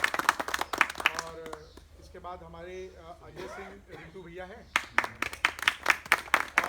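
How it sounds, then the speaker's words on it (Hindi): A group of people clapping hands at a village gathering about natural farming, with crisp close claps at the start and a louder burst near the end, and someone speaking in the middle. "जरा जोरदार ताली बजा दीजिएगा।"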